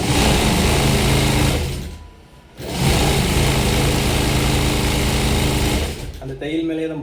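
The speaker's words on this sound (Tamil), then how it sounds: "அடுத்துனா இன்னொரு தையல் போட்டுக்கிறோம்." A sewing machine runs loud and close, stitching a blouse seam in a steady whirring burst, stops briefly, then stitches on again before a voice speaks near the end.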